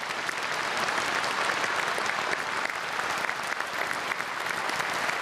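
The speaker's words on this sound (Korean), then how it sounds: "우리 박수로 축복하겠습니다." A large church congregation of several thousand at a special dawn service applauds steadily, a dense, even wall of clapping that fills the hall without pause.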